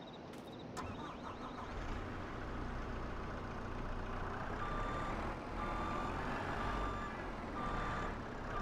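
A vehicle in Farming Simulator 22 drives with a steady engine drone and rumble, while a repeating reversing beep sounds partway through, loud and continuous with no talking.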